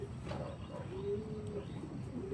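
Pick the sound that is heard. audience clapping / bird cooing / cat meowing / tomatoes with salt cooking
bird cooing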